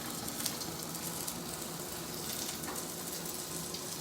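Vegetables for a shrimp and veggie stir fry browning and softening in a pan, a steady close hiss of sizzling oil with faint crackles and no voices.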